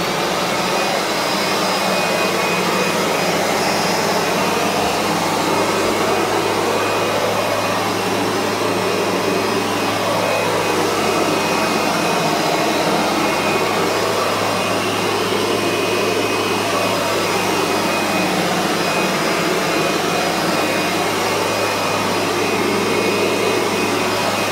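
A Kirby G3 buffs wax on a kitchen floor, a loud, steady motor whine and airy roar that runs unbroken and close throughout, with no talking.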